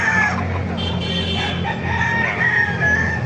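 Rooster crowing at a rooster market in Baliwag, Bulacan, a loud near crow with clucks and other fowl calling around it in a busy setting.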